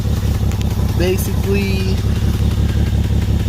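A Nissan Maxima engine idles with a low, steady rumble through an exhaust with a small leak patched with exhaust cement, heard close up while someone speaks briefly over it.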